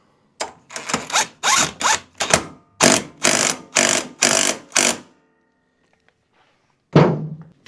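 A ratchet tightens bolts on the engine of a Toro zero-turn mower: about a dozen loud, close, evenly paced mechanical bursts, followed by near silence and one last clunk.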